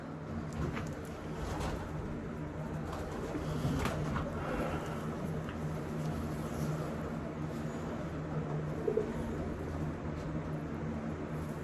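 A racing pigeon coos in a loft, low soft cooing running steadily through the whole stretch over a constant background hum.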